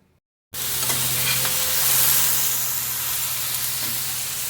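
Ridge gourd sizzles steadily as it fries in a pan and is stirred, a sudden start of loud hiss that then holds at an even level with faint scrapes, no talking.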